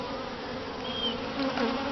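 Honey bees swarm around a frame lifted from a beehive, producing a constant, close droning buzz with individual bees whining past near the listener.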